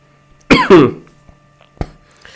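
Two quick, harsh coughs from a person with a cold, close to the microphone, then a brief sharp knock in a quiet room.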